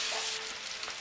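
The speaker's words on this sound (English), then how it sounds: "We're going to take the linguine from the pot straight into the pan with the butter." Linguine lifted from the pot into a pan with melted butter hisses in a brief, soft, steady sizzle, heard close and alone.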